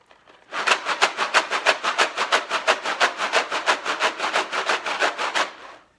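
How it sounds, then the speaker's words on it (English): A box of dry macaroni is shaken back and forth in a quick, steady rattling rhythm for about five seconds, close and crisp. "Here's a box of macaroni"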